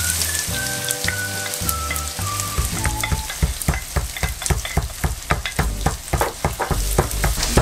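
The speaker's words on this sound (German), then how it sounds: "jetzt können wir schon Zwiebel dazugeben." Onions go into a pan of nearly finished caramel and fry, a steady loud sizzle broken by rhythmic scraping stirs that repeat close up, with a few tonal chimes early on and no talking.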